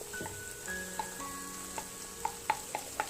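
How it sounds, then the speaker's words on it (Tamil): Tomato and onion stirred and sautéed in a pan, a steady close sizzle with regular sharp scrapes and clicks of the spoon against the pan, no voices. "ஸோ சேர்த்துட்டு இதையும் நல்லா மிக்ஸ் பண்ணிக்கலாம்."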